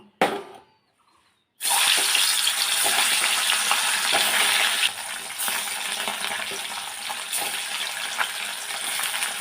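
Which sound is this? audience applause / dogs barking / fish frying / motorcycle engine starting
fish frying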